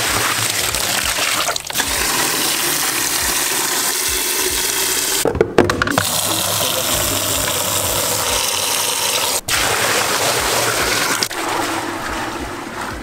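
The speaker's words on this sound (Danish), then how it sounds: "vi tager nogle spande med noget koldt vand, og så smider vi her i." Cold water poured from buckets into an outdoor ice bath, a steady, close rushing and splashing that runs almost continuously, broken by a couple of brief pauses between buckets.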